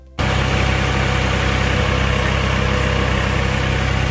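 A tractor engine in a Punjab village kicks in almost at once and then runs at a steady, loud, close idle, with a continuous low rumble and no break.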